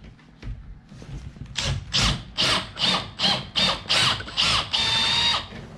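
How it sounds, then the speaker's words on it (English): A power drill with a slightly bigger bit drills out rivets on a homemade fishing chair, giving about eight close, loud whirring bursts in a steady rhythm, the last one longer, after some quiet handling noise. "Right, slightly bigger drill bit."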